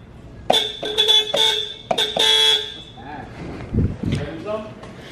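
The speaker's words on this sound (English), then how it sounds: "I'm just honking the horn" A car horn honks in a quick series of short blasts, then sounds longer and steadier, loud and close. Talking and movement follow after the honking stops.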